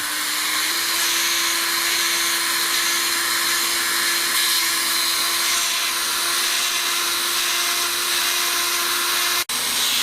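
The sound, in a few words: rotary tool with cone-shaped burr carving bone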